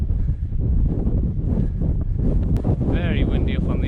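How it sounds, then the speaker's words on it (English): Strong wind buffets the microphone on high crags along Hadrian's Wall, a steady roaring rush throughout with a brief whistling sound near the end. "Very windy up on these ones."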